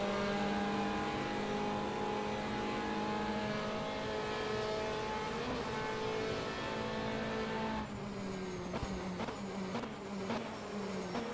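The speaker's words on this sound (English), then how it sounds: "listen to that V8 roar down the back end of the Mulsanne Straight" A Ferrari GT race car with a V8 engine roars down the Mulsanne Straight at Le Mans, a loud sustained high-revving drone that holds steady, then shifts pitch with brief gear-change breaks near the end.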